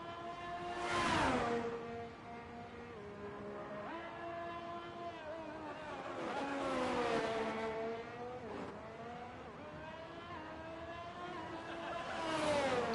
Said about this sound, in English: There's a couple of people going out for laps now